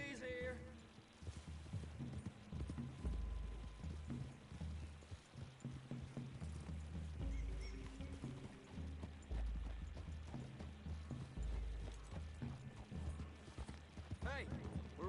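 Horse hooves clip-clop in Red Dead Redemption II, a steady walking rhythm with creaking tack and clicks beneath louder ambient game sounds.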